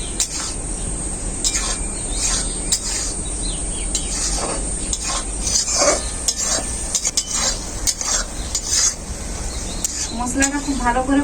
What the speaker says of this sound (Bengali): মশলাটা খুব ভালোভাবে কষানো হয়ে গেছে।